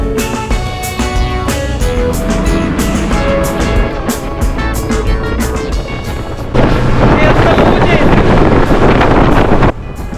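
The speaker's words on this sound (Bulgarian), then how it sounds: "Лодките се карат винаги на последна степен." A tourist speedboat driven at full throttle on the open sea in the Maldives, loud buffeting wind and engine roar with rushing water, growing harsher and louder partway through before easing slightly.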